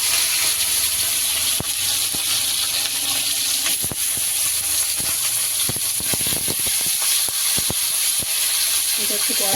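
Capsicum and onion frying in a kadai for chili chicken, a constant hissing sizzle with sharp clicks and scrapes of a spatula stirring the pan, close and fairly loud.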